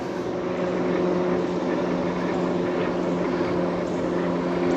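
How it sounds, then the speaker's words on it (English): Steady droning hum of a propeller engine overhead, constant and moderately loud with a buzzing tonal throb. "Single engine plane, it looks like."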